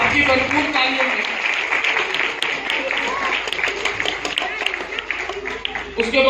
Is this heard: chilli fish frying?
no